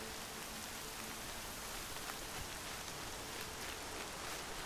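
Steady rain pours down in the Horizon video game, a dense even hiss of falling drops that holds without a break for the whole stretch, with no voices over it.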